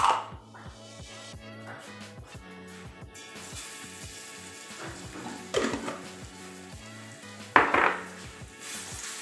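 Garlic ginger paste sizzles in hot oil in a pan over a medium flame, a soft steady frying hiss under a rapid rhythmic ticking of stirring, with occasional louder metallic clanks of utensil on pan.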